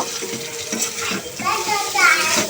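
A spoon stirs taro stolons with ginger-garlic paste, salt, turmeric and chili powder in a hot pan, producing continuous scraping and wet sizzling up close with a steady, slightly uneven rhythm.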